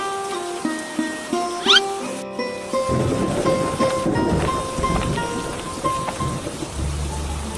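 Steady rain with a rumbling thunder roll in a Bengali fairy-tale cartoon, starting after a few tonal music notes and continuing as a dense, moderately loud downpour with a low rumble.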